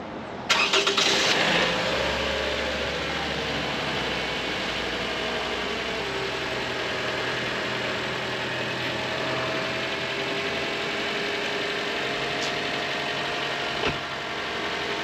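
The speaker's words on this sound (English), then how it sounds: "start the car and see if there's anything wrong" A 2006-2012 Toyota RAV4 engine starts after a spark plug replacement with a brief burst, then settles into a steady, even idle that runs on without interruption.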